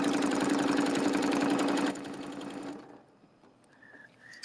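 Embroidery sewing machine stitching out a quilt block, a loud rapid needle hum with steady rhythm that drops in speed partway, then stops, leaving faint beeps and clicks.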